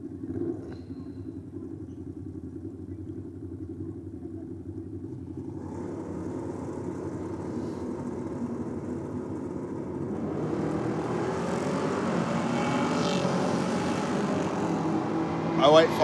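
Drag race cars, an XR Falcon driven by Greg Robbins and a Holden Torana driven by Mark Hopkins, launch together at a track championship, their steady engine roar swelling louder and broader toward the end, heard fairly close.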